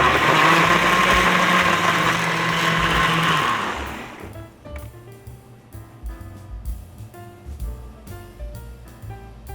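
A blender loudly grinds pear and radish with about two cups of water and minced garlic, a steady whirring roar for about four seconds before it cuts off, leaving quieter clatter and faint background music.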